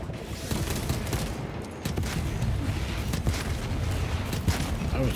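Warhammer 40,000: Space Marine 2 gameplay rattles with sustained gunfire: dense bursts and booming impacts overlap continuously, loud and near, amid battle noise.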